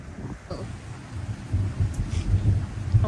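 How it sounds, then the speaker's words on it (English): Long rolling thunder during a thunderstorm with wicked lightning, a low rumble building and continuing through, with rain faintly in the background. "Oh wow, that's really long thunder."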